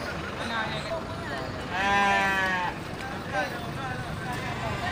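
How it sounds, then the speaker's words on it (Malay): Two male goats bleat a few times at moderate distance amid outdoor ambience and wind at a goat market, with people talking nearby. "Ya, ini 2 ekor kambing jantan ya."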